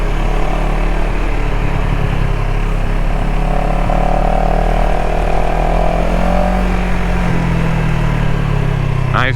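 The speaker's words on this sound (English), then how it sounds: "Nice grunt to the engine as it comes to a stop." A CFMOTO CLX 700 motorcycle engine runs loud and close, its droning tone easing and settling as the bike rolls to a stop, with steady wind and road noise throughout.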